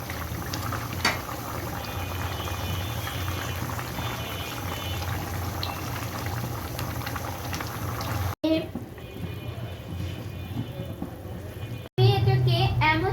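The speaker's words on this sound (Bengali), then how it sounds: "ঝোলটাকে ভালোভাবে ফুটিয়ে নিব।" Mola fish curry bubbling in a pot, a continuous simmering hiss and gurgle with a speaking voice over it, broken by two brief cuts near the end.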